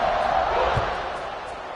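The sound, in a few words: football stadium crowd buzzing after a touchdown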